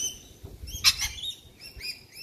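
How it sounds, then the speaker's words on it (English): Rainbow lorikeets at a backyard feeder give sharp, high chirps and a louder screech burst near the middle, scattered across the moment over a low background rumble and soft patter. "So the rainbow lorikeets are nectar eaters, as well as they'll also eat seeds."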